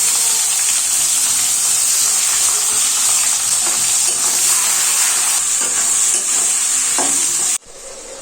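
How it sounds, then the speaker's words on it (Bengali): Onions fry in hot oil in a pan, giving a loud, steady, close sizzle with faint stirring scrapes that runs without pause, then suddenly drops away near the end. "তো এবার এর মধ্যে আমি পেঁয়াজগুলো দিয়ে"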